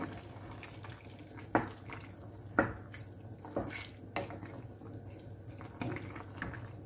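Water from an emptied tin is poured into a pan of spaghetti bolognese, giving a faint, steady trickle with a few sharp splashes and drip-like clinks, quiet and without talking.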